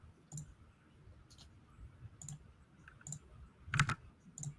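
Computer keyboard keys clack in short scattered bursts, with a louder cluster near the end, quiet against a low room rumble and no talk.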